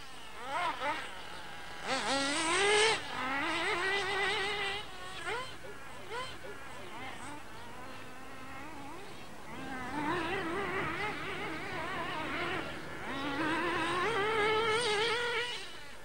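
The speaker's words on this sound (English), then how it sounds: "Within the stadium's shadow, some aspiring racers battle to control their model cars." Model cars race near a stadium outside the Catalunya circuit, their small engines giving a buzzing, insect-like whine that rises and falls in pitch as they pass, moderately loud with crowd murmur beneath.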